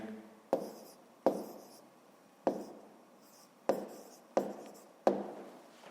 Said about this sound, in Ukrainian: Ну, а зараз записуємо відповідь.